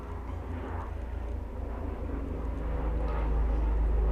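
An airplane flies overhead, producing a broad low rumble that slowly swells louder across the few seconds with no other sounds on top.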